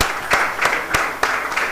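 An audience at a live final-day event in Nigeria applauds a panelist with steady, moderately loud clapping and a few sharp, louder claps standing out at regular intervals.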